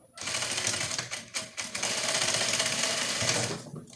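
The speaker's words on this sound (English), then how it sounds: "So we'll be stitching the last part now" A sewing machine stitches an overbust corset in loud, close rapid bursts, with a long continuous run after brief stops and starts, then stops.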